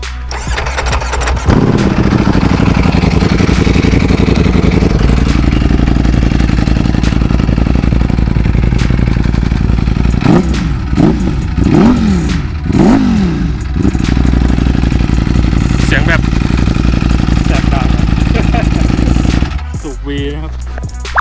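A Ducati V4 motorcycle engine idles loudly nearby, then revs up in several sharp, rising bursts before settling and cutting off near the end.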